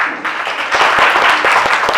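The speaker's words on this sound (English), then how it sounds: "I want to reciprocate by giving you a huge round of applause." Audience at a personality development program breaking into a dense, loud round of applause, steady and sustained for the full two seconds with no talking over it.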